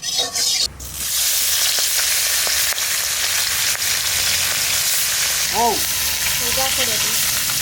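Kajli fish coated in turmeric and salt fries in mustard oil. After a brief start it becomes a loud, steady crackling sizzle, with a few soft stirring clinks near the end.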